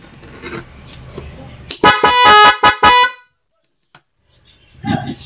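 A Nhay 3+ Pro music horn with double contact blares loudly up close, a rapid series of sharp tonal honks lasting over a second, followed by silence and a faint brief sound.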